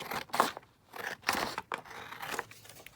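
Scissors snip through card for a Christmas shaker card in a few close, crisp cuts, each a short crunchy burst with brief pauses between, quiet overall and without speech.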